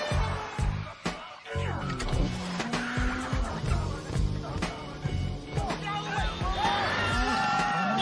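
A car chase from the film The Transporter, with roaring engines, repeated tire squeals and skids, and a busy mix of crashes and music-like tones, loud and dense throughout.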